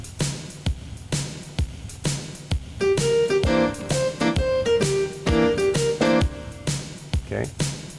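Modern blues piano left-hand pattern played over a drum beat, repeating chord figures in a steady groove with clear rhythmic pulses, alone without voices.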